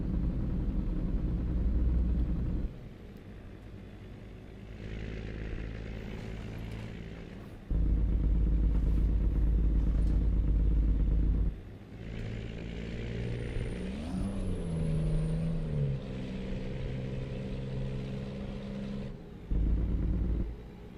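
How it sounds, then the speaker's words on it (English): Engine brake on a Kenworth W900B truck hauling a quad lowboy down a hill in American Truck Simulator, a low steady rumbling drone that rises and drops in stages, moderately quiet throughout. "Riding that engine brake all the way down this hill"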